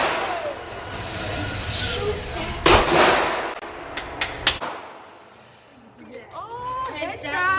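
Gunshots at a shooting range: a loud sharp report, then a quick cluster of shots, with people talking over and between them.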